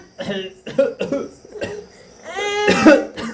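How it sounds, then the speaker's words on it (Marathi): A couple of sharp coughs break out among excited voices and chatter, fairly close and loud. "मग अशी खोकला आला"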